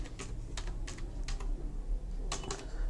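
Keys clatter on a computer keyboard in short, quick bursts of taps separated by brief pauses, close and fairly quiet with no talking.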